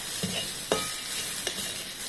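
Paneer stuffing frying in a pan with a little sweetener and chopped ginger, stirred with a few distinct scraping strokes over a soft steady sizzle; close and fairly quiet, no talking.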